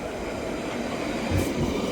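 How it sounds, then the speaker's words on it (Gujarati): A train pulls into a London station with a loud, continuous rumble of wheels on rails that swells briefly near the end with a short squeal, with no voices over it. "તો મિત્રો અમારી ટ્રેન આવી ગઈ છે"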